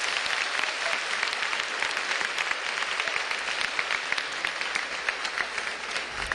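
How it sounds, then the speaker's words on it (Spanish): Dense, continuous clapping from a large audience inside the Gran Teatro Nacional, a steady wash of hand claps that stays even and loud throughout. "Un aplauso para este espacio tan bonito."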